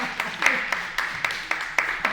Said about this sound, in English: I told y'all I'd take applause